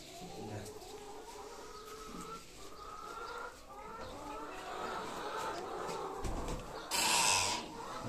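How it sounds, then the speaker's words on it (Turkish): Hens clucking and murmuring softly, with a brief sharper squawk near the end, inside a quiet chicken coop. "Ama içeride yalnız bir tane tavuk kalmış."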